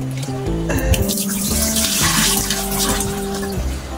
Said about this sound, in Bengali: 2-3 বার করে ধুবেন আপনারা, 2-3 বার ধুয়ে পরিষ্কার করবেন